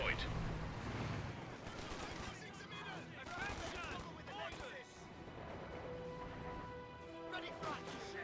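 MG34 machine gun fire rattles through a Company of Heroes 2 battle, with bursts and other shots and impacts mixed into the game's noise while a voice talks over the action.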